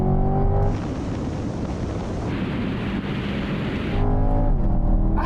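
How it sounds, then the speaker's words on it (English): A Ferrari and a Corvette, gearboxes in automatic, accelerate hard side by side in a rolling race from 50 mph, a loud sustained engine roar mixed with heavy wind rush that swells and then eases near the end. "now we're going for a rolling race from 50 miles an hour"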